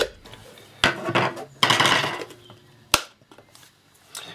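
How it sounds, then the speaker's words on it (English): Small hacksaw cutting down through the top of a jar, a few sharp rasping strokes and clicks with brief pauses between them, close and fairly loud. "with a small hacksaw we need to saw down to the hole"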